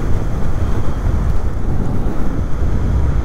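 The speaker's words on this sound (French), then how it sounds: "il y a pas mal de vent hein, quand t'es à haute vitesse là." Heavy wind buffets the microphone in a steady, loud low roar while a Dualtron Thunder III electric scooter rides at high speed along country roads, with no talking.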